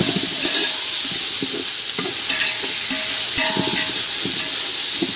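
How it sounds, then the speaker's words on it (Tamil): Chopped tomatoes fry in a pan for chicken dum biryani, a loud, continuous sizzle broken by repeated scraping stirs of a spoon against the pan, close up and with no voices. "தக்காளி வந்து நல்லா ஸ்மாஷ் ஆகிற வரையும் கிண்டி விட்டுட்டே இருங்க."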